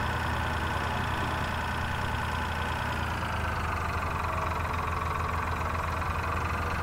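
A tractor engine in Farming Simulator 2013 drones at a steady, even pitch, a constant mid-low hum that stays close and uniform throughout with no talking.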